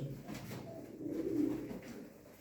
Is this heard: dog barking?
no